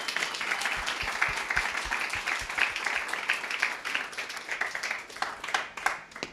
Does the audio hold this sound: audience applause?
yes